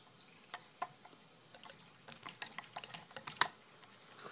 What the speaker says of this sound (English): Oh, that water sound. I have the glass globe in the sink to clean it up.